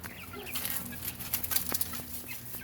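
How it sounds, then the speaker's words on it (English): Faint scattered clucks and short calls from backyard chickens in their new enclosure, with light rustling and scratchy movement, soft and somewhat distant, no talking. "the chickens are enjoying their new home"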